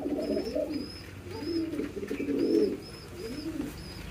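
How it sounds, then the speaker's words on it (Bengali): A pigeon on a pigeon farm gives repeated soft, low coos in rolling phrases, close and clear, with faint higher chirps from other birds in the background. "এইটা হচ্ছে গুগু পাখির মতো ডাক এখন"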